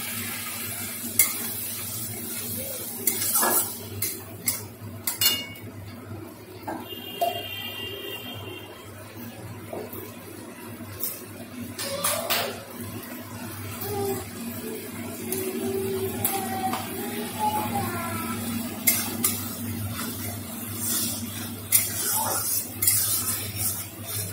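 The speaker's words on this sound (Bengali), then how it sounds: "হালকা একটু এই মশলাটাকে কষে নেব" Ginger, garlic and green chili paste with Kashmiri chili powder sautéing in a home kitchen pan, with a soft sizzle, intermittent stirring scrapes and occasional utensil clinks.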